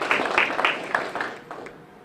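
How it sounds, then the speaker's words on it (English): Audience at a high school athletic scholarship signing gives a light round of applause, scattered claps rising briefly and then thinning out over two seconds. "let's give a round of applause for that right there"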